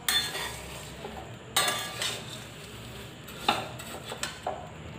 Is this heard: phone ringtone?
no